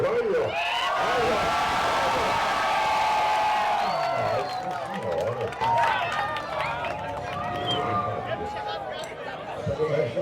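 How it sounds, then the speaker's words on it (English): A restaurant crowd cheers and whoops loudly after two eaters finish a giant 19-pound sandwich challenge in Brazil, with sustained shouting at the start and then mixed cheering, chatter and voices continuing up close. "Time to get the crowd involved, to let them know their cheering helped us finish this big sandwich"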